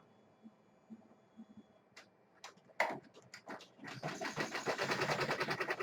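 An Avance 1501C embroidery machine starts sewing over a stitched area: a few scattered clicks and thumps, then a fast, rhythmic mechanical hum that settles into a steady run.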